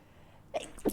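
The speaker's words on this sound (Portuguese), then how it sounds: "Peraí que eu vou espirrar." A short, abrupt sneeze bursts out after a quiet breathy lead-in indoors, close and fairly sharp, in two quick pulses.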